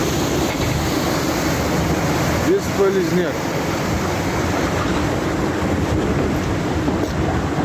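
Steady roar of floodwater pouring heavily through a breached dam like a waterfall in Orsk, continuous and loud, with wind buffeting the microphone and a brief spoken remark.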